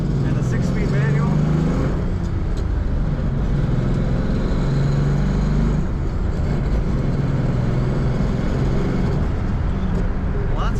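A 1965 Chrysler Newport New Yorker fitted with a late-model engine and a 6-speed manual idles steadily, a loud, continuous low rumble that stays even throughout.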